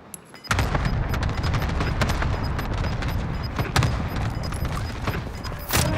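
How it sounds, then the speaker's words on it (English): Rapid cluster airstrike explosions in a first-person shooter game, a dense, continuous barrage of loud booms and crackling blasts rolling for several seconds after a brief quiet start. "Cluster strike is active."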